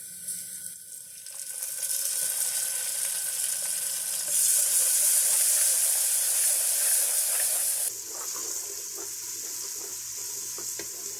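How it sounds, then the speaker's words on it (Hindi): Onions, garlic and cumin frying in a pressure cooker for beef paya: a steady loud sizzle and hiss that swells midway, then drops to a softer, lower crackle near the end, with no voices. "लहसुन, प्याज और जीरे को हम तकरीबन 1 से 2 मिनट भून लेंगे।"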